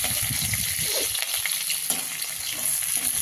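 Potato pieces and green chilies sizzle steadily in a hot pan, a dense close crackle with intermittent stirring scrapes and no talking.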